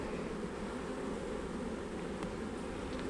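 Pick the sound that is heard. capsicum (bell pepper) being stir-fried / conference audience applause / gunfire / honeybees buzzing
honeybees buzzing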